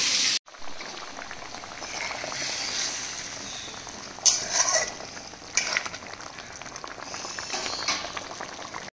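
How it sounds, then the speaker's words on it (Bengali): Fish frying in a pan beside other curries on the stove, a moderate steady sizzle and bubbling with occasional louder spits and stirring, no voices. "এখানে মাছ ভাজা হচ্ছে"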